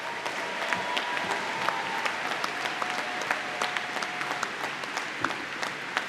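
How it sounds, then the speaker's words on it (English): An audience at Denison University's 2024 commencement claps warmly for the graduating class, a sustained, even round of applause from a large crowd lasting several seconds, with no talking. "Can we give them a round of applause?"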